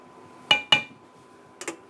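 Spoon clinking against a dish while homemade ravioli is tossed with olive oil: two crisp, bright clinks close together, a quiet pause, then a fainter double clink.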